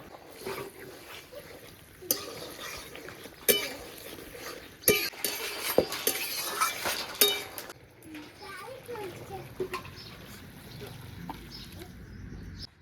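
A spoon stirs a Bengali pointed gourd curry with roe-filled bata fish in a cooking pot, making several sharp metallic clinks in an uneven rhythm, with faint voices in the background.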